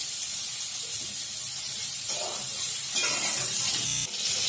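Food frying in a pan gives a steady close hiss and sizzle, like chana and potatoes cooking for a dorma curry, with a few brief louder spurts and no talking.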